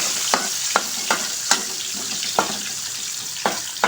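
Onion frying in a very hot pan alongside ginger for a Filipino fish stew, a steady close sizzle broken by about eight regular scraping strokes as it is stirred.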